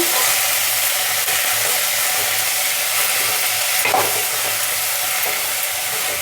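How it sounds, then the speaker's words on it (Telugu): Fenugreek leaves fry in a pan for dal, giving a loud, continuous close-up sizzle and hiss with faint stirring scrapes and no talking. "కొద్దిగా ఫ్రై కానిద్దాము"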